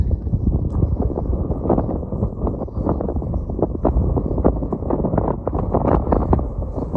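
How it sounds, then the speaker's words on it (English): Strong wind buffeting the microphone on the open, exposed peak of Max Patch on the Appalachian Trail, a loud continuous low rumble with irregular gusty thumps and no speech. "It is windy."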